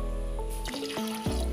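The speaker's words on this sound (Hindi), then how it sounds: "इसमें हम पानी डालते हैं" Water pours and splashes into a cooking pot for rice, a steady liquid rush with gurgling shifts in pitch as the vessel fills, close by.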